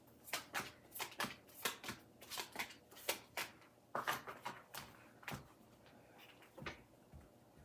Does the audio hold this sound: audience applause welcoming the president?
no